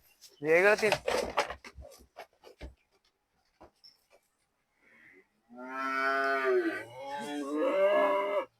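A Holstein Friesian bull calf on a cattle farm gives loud, drawn-out moos, two long calls close by, after a few brief voices and clicks.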